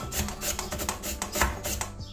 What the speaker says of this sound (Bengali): আপনারা ওই ছোট ঘষনির মধ্যেও ঘষে নিতে পারেন।